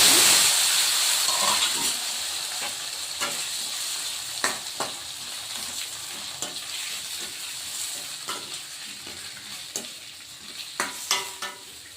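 Thickly chopped onion and a couple of tomatoes frying in a pan for vegetable huli sambar, a constant close sizzle with scattered stirring scrapes and clacks, louder at first and easing slightly, no talk.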